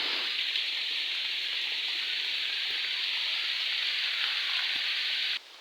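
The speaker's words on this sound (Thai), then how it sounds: "ฝนแรงมาก" Heavy rain pours down outdoors during a bamboo-shoot foraging trip, a constant loud hiss of drops that cuts off abruptly at the end.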